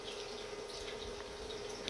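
Hot water pours steadily out of a vessel of soaked soybean chunks in a home kitchen, giving a continuous, even splashing and trickling rush with no speech.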